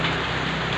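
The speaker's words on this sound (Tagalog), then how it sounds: "Kahapon pa tong ulan na to." Steady typhoon rain patters down in Cabugao, Ilocos Sur, in a dense, even hiss, with no voices over it.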